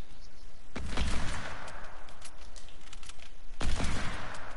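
Gunfire in Fortnite comes in two loud rapid bursts of shots roughly three seconds apart, with quieter crackling and rumble between them.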